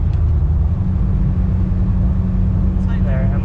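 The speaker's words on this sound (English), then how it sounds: "Try downshifting a gear." A carbureted 16-valve 4AGE engine drones steadily inside a moving car as the driver downshifts, its low rumble constant and close throughout, with brief voice sounds near the end.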